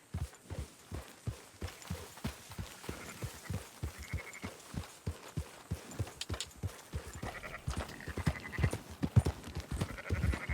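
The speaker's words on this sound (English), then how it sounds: "Marston, why don't you leave the sheep to me?" Sheep in Red Dead Redemption 2 bleat repeatedly while a steady rhythmic clatter like hooves runs underneath, with several overlapping calls growing busier toward the end.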